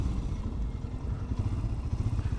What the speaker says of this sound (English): You get a bit of induction sound, a little bit of that thumper sound to it.